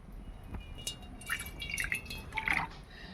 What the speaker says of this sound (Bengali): তাই কড়াতে প্রথমে একটু জল দিয়ে দিচ্ছি